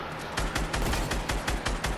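Rapid gunfire in the video game Fortnite, a fast, even string of roughly a dozen sharp shots within two seconds, loud and close with constant background game noise.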